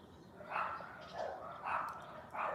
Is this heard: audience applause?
no